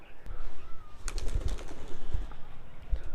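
A pigeon taken from the coop is released and bursts into a short flurry of wing flaps, with a few soft thumps close by. No one speaks.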